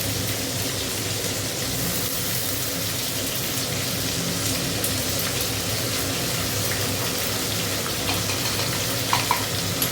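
Steady hiss and crackle of tomato frying in a pan with cumin and ginger paste and spices, continuous and close throughout with a faint clink near the end.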